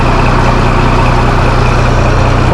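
A Cat 3116 diesel engine in a Chevrolet Kodiak truck idles steadily after a cold start, a loud, continuous low rumble with an even throb and no talking.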